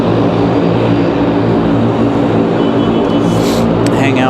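An ATR turboprop airliner passing close at Raleigh Durham airport, a loud, broad engine roar sustained throughout, with a brief higher whine toward the end.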